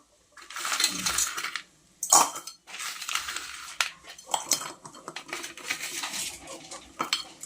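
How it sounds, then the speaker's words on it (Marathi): A spoon stirs a lump of jaggery in a metal cooking pot on low heat for a sweet-and-sour lemon pickle, giving repeated scraping and clinking bursts of metal on metal, close and fairly loud. "आता हे चांगलं मिक्स करून घेऊया आपण गॅस मंदच ठेवलेला आहे"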